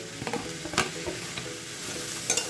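Pea greens frying in a pan sizzle quietly while a utensil stirs and turns them, giving several scraping knocks and clatters at irregular intervals.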